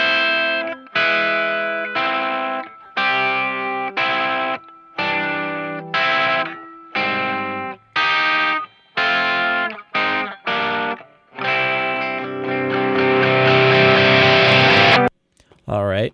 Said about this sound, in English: this is basically a little chord melody I came up with between lessons a couple days ago